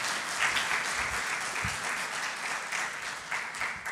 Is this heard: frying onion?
no